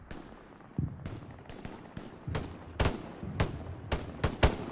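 Gunshots ring out in the Hell Let Loose competitive 18v18 match, roughly ten sharp cracks spaced irregularly, some louder and closer, with a quieter stretch at the start and a cluster of strong shots toward the end.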